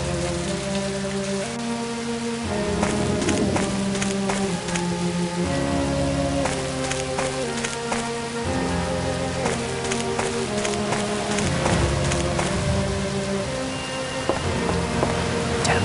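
Steady rain falls throughout in the mystery game And Then There Were None, a dense continuous patter on surfaces. Music plays beneath it and nobody speaks.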